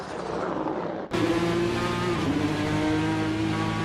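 A GTE Legends race car locks up its tyres under hard braking at Road Atlanta: a sharp, sustained tonal squeal breaks in abruptly over loud, continuous engine roar and lasts to the end.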